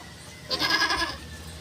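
A single goat bleats at feeding time, a short nasal cry rising out of quiet farmyard background and fading within about a second.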